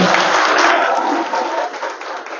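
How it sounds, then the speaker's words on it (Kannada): An audience at a Valmiki Nayaka community meeting claps together in a dense burst of applause that holds steady, then thins slightly near the end. "ಕೈ ಎತ್ತಿ ಜೋರಾಗಿ ಚಪ್ಪಾಳೆ ಹೊಡೆದು ಸಹಕರಿಸಿ"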